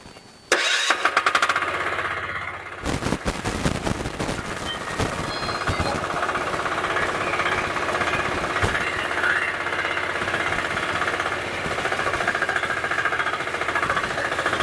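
A power tiller's small engine, started in neutral, kicks on with a sharp burst, then keeps running with a loud, rapid mechanical chugging and rattle that holds steady.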